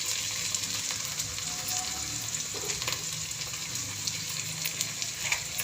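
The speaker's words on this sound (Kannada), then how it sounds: "ಈರುಳ್ಳಿ ಬೇಗ ಬೇಯುತ್ತೆ, ಕಂದು ಬಣ್ಣ ಬರುತ್ತೆ" Onions frying in a pan with a little rock salt, a steady close sizzle and crackle running unbroken throughout, with faint scraping and stirring now and then.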